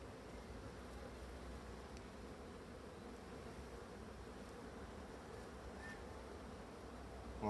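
Black honey bees humming inside an opened hive with drawn white wax and honey, a faint, steady, even drone that continues without a break.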